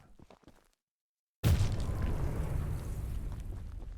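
A rocket launcher round explodes in the video game Choo Choo Charles: a sudden loud boom after a brief silence, followed by a long, dense rumbling roar that holds for several seconds. Faint talk is heard before the blast.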